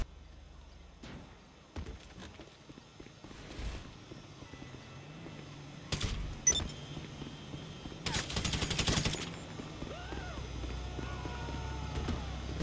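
Gunfire in the video game GTA V, scattered shots and a couple of louder bursts over a low background din, with faint speech at times.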